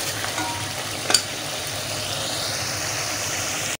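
Bone-in beef for gobi gosht sizzles and fries in a hot pot, a dense continuous crackle with one sharp scrape of a spoon early on, cutting off abruptly at the end.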